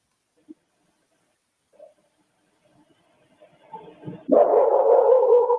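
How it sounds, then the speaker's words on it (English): A dog gives an alerting bark at night: a few faint stray sounds first, then rising noises and a loud, sustained burst of barking up close at the end. "That is an alerting bark."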